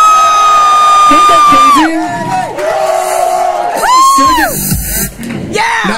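A crowd at a 2014 gala cheers and yells, with loud sustained whoops and shouts rising over a sound system. A voice speaks briefly through the noise.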